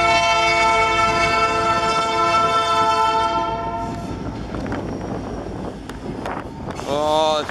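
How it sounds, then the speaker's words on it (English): A freight train's horn blares loudly and steadily, then fades as the train of boxcars rumbles past with wind noise, before a short horn blast returns at the end. "This better not be a short train."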